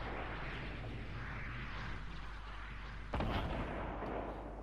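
Gunfire in the video game Fortnite: a sudden, sharp burst of shots cuts in partway through and then lingers over a low, constant background rumble.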